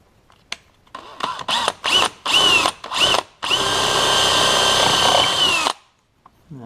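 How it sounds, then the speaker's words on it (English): A power drill bores 1/4-inch mounting holes for a winch contactor on a RZR XP Turbo S, firing in several short loud bursts and then one long sustained run, close up with no talking. "the holes, 1/4-inch holes to mount the contactor. So I'm going to drill them real quick."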